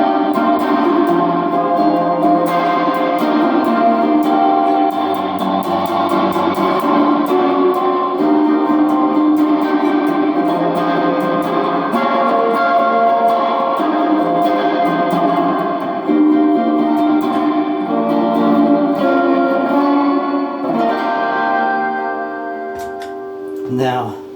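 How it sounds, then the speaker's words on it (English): Electric guitar played through a Donner reverb pedal into a Marshall-style overdrive, sustained distorted chords and notes washed in reverb, loud and continuous, fading out at the end. "Let's turn back on the Donner Reverb and leave everything else as it was"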